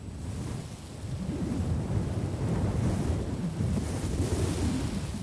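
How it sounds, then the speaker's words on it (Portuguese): Dry desert wind blows steadily in a continuous, moderately loud rumble with gentle surges and no voices. "O árido vento do deserto sopra durante todo o dia."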